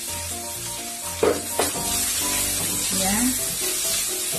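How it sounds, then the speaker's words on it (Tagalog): Garlic and onion sizzle steadily in a pan while being sautéed for a Chinese-style braised eggplant and pork stir fry, a continuous frying hiss with a few sharp spatula scrapes, under a voice. "At ating igisa ng mabilisan"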